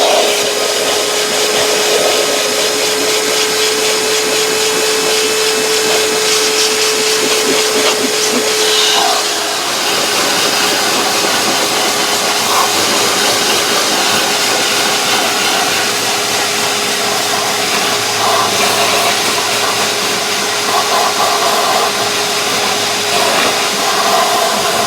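A vacuum cleaner fitted with a crevice tool pulls dog hair from a car's carpet, a loud, steady, continuous whine and roar running unbroken throughout with slight pitch shifts as the nozzle moves.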